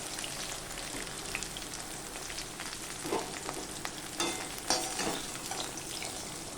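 Small whole okra frying lightly in oil in a pan, giving a steady close sizzle with scattered crackles and pops throughout and no talking.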